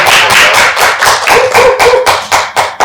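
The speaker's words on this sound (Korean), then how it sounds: "긴 시간 동안 열정적인 발표와 재미난 대담을 진행해주신 두 분께 박수 부탁드리겠습니다" A small seminar audience claps at the close of a talk on international migration and care, a short burst of close, fairly loud hand clapping with a few distinct slaps standing out, no voices.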